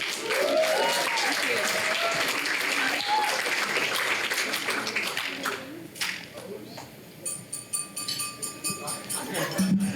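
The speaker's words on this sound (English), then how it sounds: "How about another round of applause" A wedding reception crowd applauds in a sustained wash of clapping with voices mixed in. The clapping thins into scattered, sharper individual claps toward the end.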